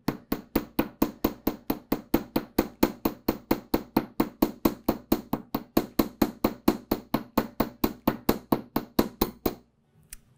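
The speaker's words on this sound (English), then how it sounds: "I'm just going to take my chasing hammer and start to hammer." A chasing hammer strikes the sides and loops of a wire bracelet made on a looping jig, producing a long run of crisp, evenly spaced metallic taps, about four per second, that carry on steadily and stop abruptly near the end.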